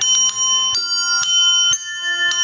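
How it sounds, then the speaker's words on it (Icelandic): Small bells played in a recording studio, a handful of bright metallic strikes ringing out in an uneven rhythm, close and clear with sustained overtones and no talk over them. "Lítið klukkur"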